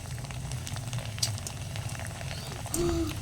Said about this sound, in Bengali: বন্ধুরা এবার আমি ব্যাট পাঁপড় ভেজে নিচ্ছি কটা